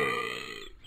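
A single close, loud burp after gulping down a drink of water, lasting about a second and heard alone without talk.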